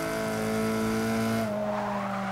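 A Renault Alpine A110 in Forza 6 slides with a sustained tire squeal over a loud, steady engine drone, the squeal easing off as the slide ends.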